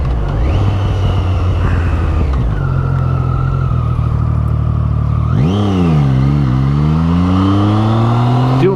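Triumph Street Triple 675R motorcycle ridden along a road by Coeur d'Alene Lake, its engine droning loud and close, easing off then revving up hard with rising pitch through the gears, wind noise throughout.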